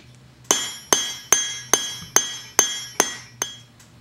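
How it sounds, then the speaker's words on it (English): A cross peen hammer strikes hot steel on an anvil while forging an S hook, eight sharp ringing blows in an even rhythm about every half second, loud and close, with no talk. "I'm going to use the cross peen side of the hammer in order to drastically and rapidly draw out the material."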